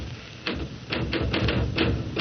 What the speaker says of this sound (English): Stop that typing.